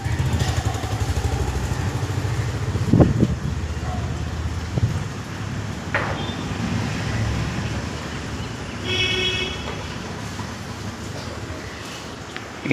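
Two-wheeler engine passing in street traffic in Pondicherry, a steady broadband drone with wind buffeting and a few sharper passing bursts, moderately loud and continuous throughout.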